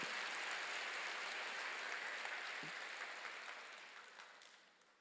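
Congregation applauding in a church service, a dense steady patter of many hands that holds at moderate level, then thins and fades toward the end, with no talk over it.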